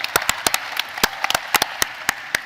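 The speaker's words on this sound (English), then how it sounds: "So a huge round of applause for all of our startups and for our three judges." Scattered, sparse handclaps from a conference audience at Collision 2017 center stage, a dozen or so distinct sharp claps spread unevenly over a quiet room tone, with no sustained ovation.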